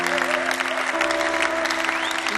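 A church congregation at Église Philadelphie applauds and cheers for the Lord: loud, dense clapping runs nonstop under a sustained musical tone and crowd sound.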